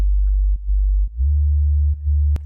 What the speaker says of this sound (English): originally, you know, the bass line was playing like this